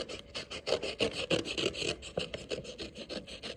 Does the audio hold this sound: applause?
no